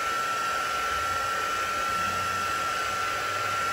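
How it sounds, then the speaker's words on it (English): A heat tool blows hot air to dry a stamped Stampin' Up coneflower card, giving a steady, continuous whirring hiss with a faint high whine, close and alone for its full length. "I'm just going to heat this just to make sure it's fully dry"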